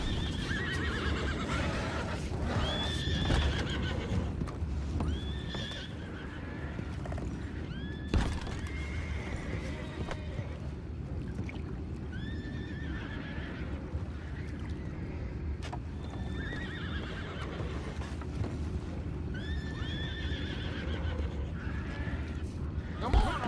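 Horses whinny repeatedly over a continuous low rumble in the video game Red Dead Redemption 2, with hooves clopping and occasional knocks; voices murmur faintly in the background.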